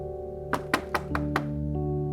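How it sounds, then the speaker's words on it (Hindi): Five sharp knocks on a door in an even, fairly quick rhythm, close and distinct, over a sustained tonal music-like background. "नाजिश, नाजिश दरवाजा खोलो।"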